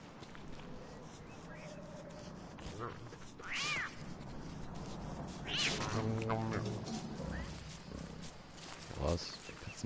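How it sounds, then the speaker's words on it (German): Cat meows and yowls from a cat in the survival video game Don't Starve, a few distinct calls at moderate loudness over game background, with a person talking throughout. "Katze macht sie über Maulwurf her oder was?"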